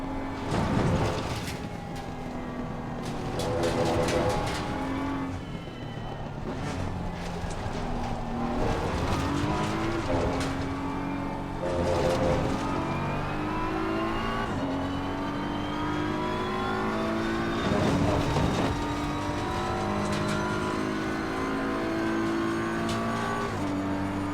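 BMW M4 GT3 race car in the racing game Assetto Corsa Competizione, a steady engine note climbing and dropping through gear changes with brief tire squeal, continuous throughout with no talking.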